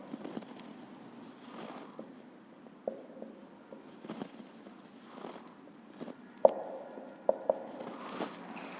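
Chalk or marker scratches across a board in short irregular strokes during a Class 12 geography lesson, a light scraping texture with a few sharper taps, with no speech over it.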